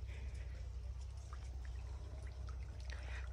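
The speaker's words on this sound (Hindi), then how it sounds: "पानी आ रहा वा ते मैं कह सब्जी नू पानी ला लईए" Water from a pump running onto vegetable plants in a village field, a steady, continuous gush and trickle with a low rumble underneath, close and fairly quiet, with no talk.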